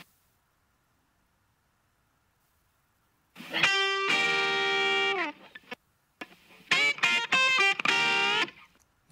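Synth-like tonal notes pass through a delay effect on a reverb tail in Studio One, sounding as two bright harmonic bursts separated by a short gap, each ringing with layered echoing repeats, alone and fairly loud.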